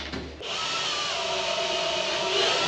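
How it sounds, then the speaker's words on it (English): A power drill whirs into a poplar board, starting abruptly and grinding steadily at close range with a rising, rough buzz, no voices. "if you're drilling a really deep hole"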